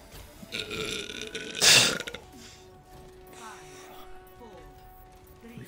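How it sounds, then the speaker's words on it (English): Loud, harsh burp lasting about half a second, then fading into quiet background game sound with faint talking. "that was a horrible burp"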